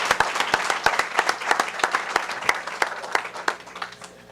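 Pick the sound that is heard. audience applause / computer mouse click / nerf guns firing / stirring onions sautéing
audience applause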